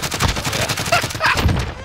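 Rapid automatic gunfire in the video game Call of Duty Warzone, a dense, loud burst of continuous shots with a few sharper cracks layered in, filling the whole moment.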